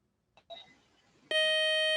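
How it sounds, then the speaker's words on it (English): A loud, steady electronic quiz show buzzer blares suddenly after a short quiet stretch, ending a toss-up round, and holds for nearly a second, bright and harsh. "that buzzer means the end of our first toss-up round"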